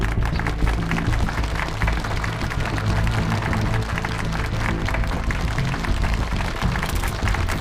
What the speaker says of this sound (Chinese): 让我们掌声欢迎谭司令上台致辞